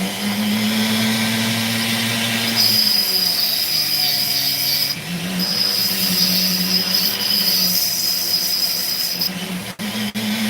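A drill grinds through brittle opal, a loud, steady, close whine whose pitch shifts as the bit bites, with a high squealing tone over most of it and a brief drop near the end.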